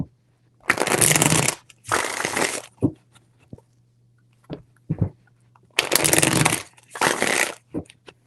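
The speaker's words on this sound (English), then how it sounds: "3 shuffles." A deck of tarot cards is shuffled in four loud riffling bursts, each about a second long, with small taps and clicks of the cards between them, close up and with no talk.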